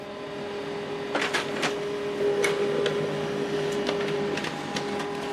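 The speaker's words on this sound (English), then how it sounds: "Okay, so this is the document we printed out from the phone." An HP LaserJet M140WE wireless printer prints a document with a steady mechanical whir, scattered clicks and brief rushes as paper feeds through, heard close and fairly loud.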